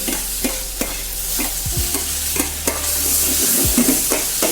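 Rice being sautéed in a pan for squid ink paella: a steady sizzle broken by repeated scraping and stirring strokes, close and clear, with a low hum underneath.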